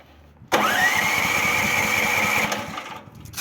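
The small warmed-up petrol engine of a KENTAVR 15G mini tractor starts abruptly and runs loud and close with a rising then steady buzzing tone under a bit of throttle, dropping off toward the end.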